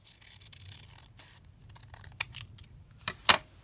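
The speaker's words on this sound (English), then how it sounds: "So I'm just going to trim them down slightly this way now." Scissors trim paper envelope booklets in a few quick close snips, with light rustling between cuts and two sharper snaps near the end.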